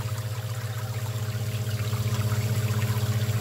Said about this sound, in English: Water's going in and out of the bottle just fine.